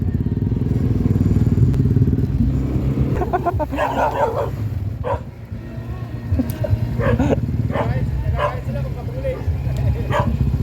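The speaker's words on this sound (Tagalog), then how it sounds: "Nagagalit yung aso kapag patuloy yung takbo." Dogs bark and yip at a Skygo Lance 150 motorcycle riding past in Batangas, sharp repeated barks cutting over the bike's steady engine drone, with people talking.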